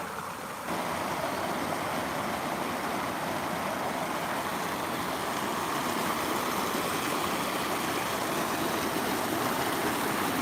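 Steady broadband rush of a river waterfall, one of several falls along the river, pouring continuously and fairly close, with no voices over it.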